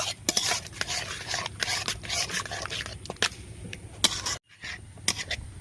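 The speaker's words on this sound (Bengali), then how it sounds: "খুব সুন্দরভাবে সবগুলো একসঙ্গে ভালো করে মাখিয়ে নেব।" Palm fruit pitha dough is worked together with a spatula in a bowl, giving close, irregular rubbing and scraping strokes with brief pauses between them.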